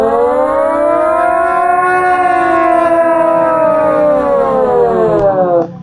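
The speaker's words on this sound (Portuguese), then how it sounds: "o carro vai se aproximando, vai ficando agudo, agudo, agudo. Depois ele passa e fica grave" A car passes by sounding a loud, steady, siren-like tone whose pitch holds high as it approaches and then slides lower as it moves away, with the tone cutting off at the end.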